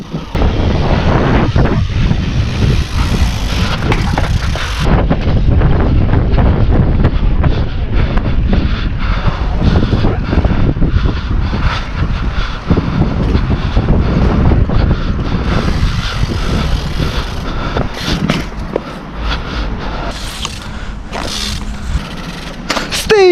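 Strong gusting wind buffets a microphone outdoors during BMX peg wheelie practice, a loud, continuous broadband roar with rumbling low-end bursts that persists for the whole stretch.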